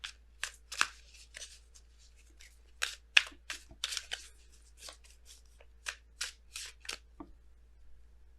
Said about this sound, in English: we're going to go ahead and pull you guys your Messenger Oracle cards